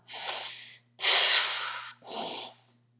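A narrator voices the witch Baba Yaga sniffing, three loud, close, breathy sniffs with brief pauses between them, the middle one longest; the sniffing is a human imitation.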